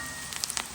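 Onions frying in a pan, a soft steady sizzle with a few brief crackling pops near the middle, faint and close, with no voices.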